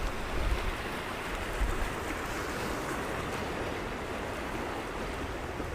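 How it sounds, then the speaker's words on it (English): Waves rolling in on the Solway estuary at Bowness-on-Solway, a steady low wash of surf with wind, faint and continuous with no voices. "Those waves coming in."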